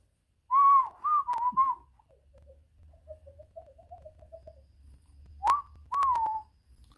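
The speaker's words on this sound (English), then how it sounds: "I can whistle." A person whistles a short, wavering tune up close: clear melodic notes, a softer warbling run in the middle, then a few louder notes.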